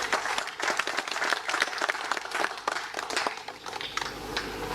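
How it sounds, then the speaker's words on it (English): An audience at a West African bank governors conference in Freetown, Sierra Leone, applauds, a steady dense patter of many hands clapping from a moderate distance throughout. "I think Governor Leone Capuso deserves another round of applause."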